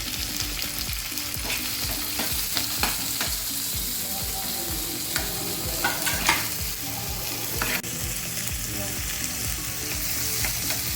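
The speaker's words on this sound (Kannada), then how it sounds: "ಆಯಿಲ್ಗೆ ಸ್ವಲ್ಪ ಈರುಳ್ಳಿ, ಕ್ಯಾರೆಟು ಮತ್ತು ಕ್ಯಾಪ್ಸಿಕಮ್ ಮೂರು ಹಾಕಿ ಶಾಲೋ ಫ್ರೈ ಮಾಡ್ತೀವಿ" Onion, carrot and capsicum shallow-fry in oil over high flame, with a loud continuous sizzle and repeated rhythmic scraping and clacking of a spatula stirring the pan.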